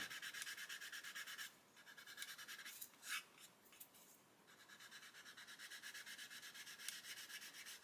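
Steady rubbing strokes of sandpaper along a seam on a 1/35 Ju87 G1/2 Stuka plastic model kit, close and quiet, with a short pause mid-way before the even scratchy sanding resumes.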